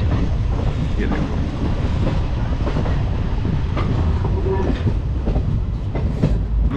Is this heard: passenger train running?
yes